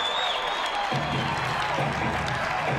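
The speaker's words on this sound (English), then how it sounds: "Applause as Smith crosses" A college baseball crowd at a UConn versus Wake Forest NCAA Tournament game applauds steadily as a runner crosses home plate, a dense, continuous wash of distant clapping and murmuring with no clear voice on top.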